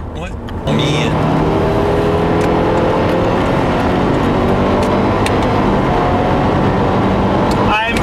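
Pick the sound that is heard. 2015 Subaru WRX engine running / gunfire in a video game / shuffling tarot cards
2015 Subaru WRX engine running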